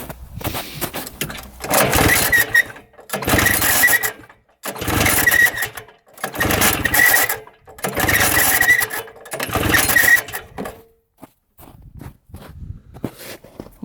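A vintage Raider 34TT twin-track snowmobile engine is cranked with the throttle open in six loud, close bursts of churning starter whir, each about a second and a half, separated by short silences.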